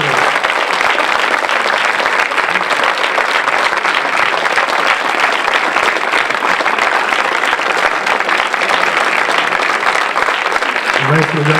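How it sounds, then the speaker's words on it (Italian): An audience gives sustained applause for the Sanremo Symphony Orchestra at a live concert in Torre Paponi, with loud, dense clapping that holds steady from start to finish. "Un grande applauso per questa incredibile orchestra."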